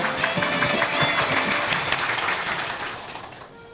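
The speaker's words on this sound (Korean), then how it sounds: "여러분 큰 박수 부탁드립니다" Applause from the audience at a civic association's founding ceremony, a dense burst of clapping that holds steady and then starts to taper off at the close.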